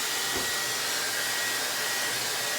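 Steady broadband whoosh of a hair dryer blowing on hair, held close and fairly constant, running alone without any voices for a few seconds.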